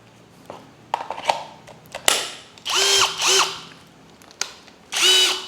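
An NRT Pro DC740 cordless brushless compact drill whirs in several short bursts that rise and fall in pitch, with clicks and ratcheting between runs, close and loud.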